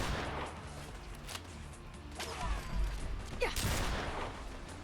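A 4-gauge shotgun in Fallout 4 booms a few times amid scattered in-game gunfire. The shots are mid-distance and moderately loud over a constant ambient rumble.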